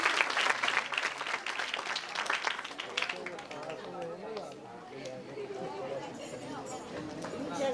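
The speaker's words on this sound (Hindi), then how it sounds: "एक बार बाबा भारती स्कूल के बच्चों के लिए जोरदार ताली होना चाहिए।" A hall audience at a school children's event applauds in a dense burst of clapping that gradually thins and fades, while a loud voice talks over the dying claps.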